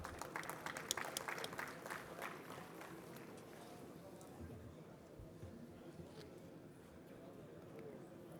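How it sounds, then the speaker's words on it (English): Applause from a conference audience after a speaker is announced at an annual technical conference, a dense crowd clatter that is strongest at the start and then thins into a steadier, softer patter with some voices mixed in. "Ladies and gentlemen, please a huge round of applause for Dr."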